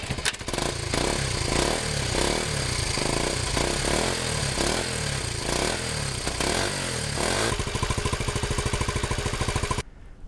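A rebuilt 1971 Honda CT90 motorcycle engine firing up: a loud, close, rapid single-cylinder putter with rhythmic throttle surges for several seconds, then a steadier idle before it cuts off abruptly, no talk.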